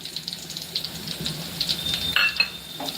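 Onion with chili powder, turmeric, homemade masala and garam masala sizzles steadily in a pan while a spoon stirs and scrapes it, a close continuous frying hiss for a bangda fish curry, with no talking.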